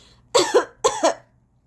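Two sharp coughs in quick succession, close and fairly loud, each a pair of bursts, followed by quiet.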